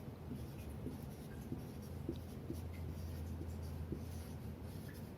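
A pen scratches out numbers on paper while multiplication tables are written by hand, a quiet, close, steady scratching with small strokes and taps throughout.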